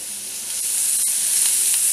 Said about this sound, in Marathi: कांदा टाकल्यानंतर आपल्याला हे आलं टाकायचं आहे त्याच्यामध्ये भाजायला